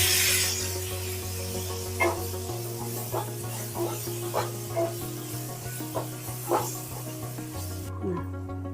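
Tomatoes with turmeric frying in a pan for dum aloo curry give a steady sizzle with occasional stirring scrapes, close and moderately loud, with a low background hum and no talking.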